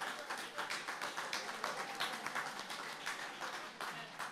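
Audience applause at a talk on teaching philosophy in Haiti, honoring teachers: steady, dense clapping from a crowd, moderately loud and sustained throughout, with no voices over it.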